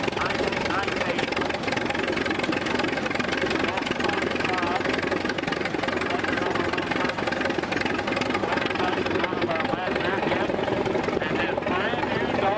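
An antique 25 horsepower tractor engine runs at a tractor parade, a continuous rumbling, knocking drone that stays loud and even throughout, with outdoor crowd noise and faint voices mixed in.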